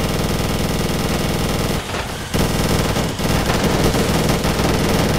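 Continuous rapid machine gun fire from a car in the racing combat video game Death Skid Marks, loud and dense, with one brief pause before the rattling bursts resume.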